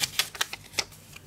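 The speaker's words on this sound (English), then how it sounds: "I'm going to write that on this piece of paper." A pen scratches out a short note on a sheet of paper, giving about eight quick, crisp strokes in an irregular rhythm, close and fairly quiet.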